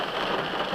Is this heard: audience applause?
no